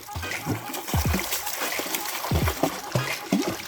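A child swimming in a pool makes close, repeated splashes and slaps of water, while an adult voice speaks at moments over the splashing.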